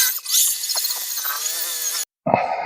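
A cheap Amazon rotary polisher with a wool buffing pad running steadily against the paint of a Jeep Grand Cherokee, a high whirring drone that cuts out abruptly near the end, then restarts briefly.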